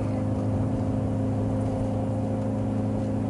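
A manual car engine running near 5,000 RPM around an upshift gives a steady, loud, droning hum that holds throughout with no clear break, and no one speaks.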